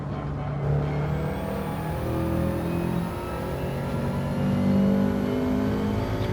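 A Subaru race car in Gran Turismo 7 during a DTM race, its engine droning steadily near and loud with rising and falling rev tones throughout, no voices.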